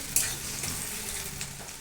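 Meat fries in a pan with a paste of ginger, garlic, dried chilli and a little onion, giving a steady close sizzle with faint scraping, no voices.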